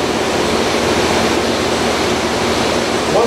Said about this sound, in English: with a powered drill it sometimes tends to splash.